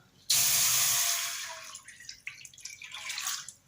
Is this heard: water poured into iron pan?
yes